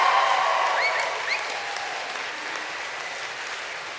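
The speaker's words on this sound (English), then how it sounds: "A big round of applause, please." A graduation ceremony crowd for a School of Education and Continuing Studies gives a full, sustained round of applause, a thick, even wash of many hands that eases slightly in volume as it continues.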